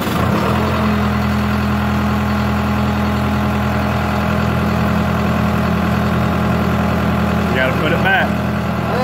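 A vehicle engine idles steadily and loudly after being cranked, a constant low rumble filling the whole stretch, with a brief faint voice near the end.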